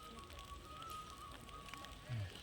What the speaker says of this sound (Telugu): ఇట్లా వాన పడుతుంది